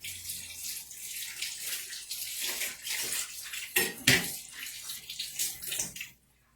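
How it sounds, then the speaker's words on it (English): A kitchen tap runs over hands being rinsed, a close splashing wash that shifts as the hands move through the stream and then stops abruptly at the end, with no one speaking. "Let me rinse my hands."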